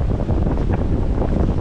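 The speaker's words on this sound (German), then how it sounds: "jetzt haben wir so um die 30 Knoten Wind" Strong wind of around 30 knots roars steadily across the microphone on a sailboat at sea in the Caribbean, a loud unbroken rush with no speech.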